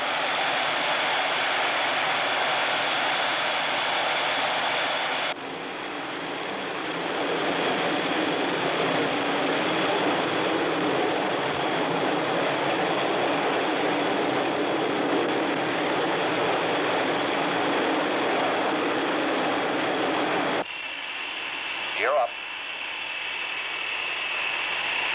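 Boeing B-47 jet engines power up for takeoff in a loud, steady roar that fills the whole stretch, swelling in strength around the fifth second and dropping back briefly near the end.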